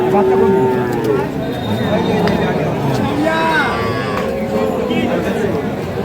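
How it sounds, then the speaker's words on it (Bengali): A Jersey cow moos loudly and close at a village cattle market, a long low call near the start and more lowing later, over a constant hubbub of crowd chatter and bargaining voices. "এটা একটা জার্সি গরু"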